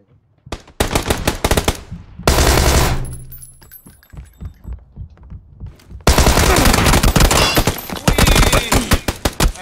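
Rapid automatic fire from an M416 rifle in a shooter video game comes in loud, dense bursts, then a pause filled with lighter scattered shots, then a long sustained burst of gunfire close to the listener.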